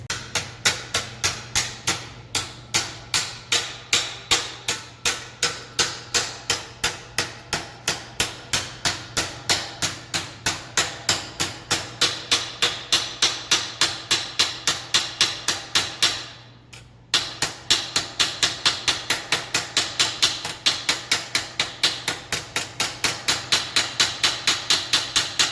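Rapid, evenly spaced hammer blows shaping and shrinking sheet metal into a compound curve ring out for a long stretch, pausing once briefly before the steady pounding resumes.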